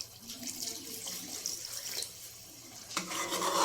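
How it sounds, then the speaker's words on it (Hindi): Water is poured into a cooking pot of chicken curry, running and splashing steadily for a few seconds, close by, with a brief louder gush near the end. "मैं इसमें थोड़ा सा पानी डालूंगी"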